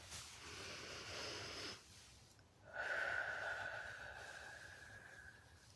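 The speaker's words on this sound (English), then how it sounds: "deep cleansing breath" A deep cleansing breath, heard close: a long airy exhale, a brief pause, then a second breath with a slight whistling, wheezy tone.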